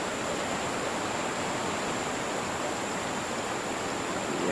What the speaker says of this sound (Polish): przeklęty wodospad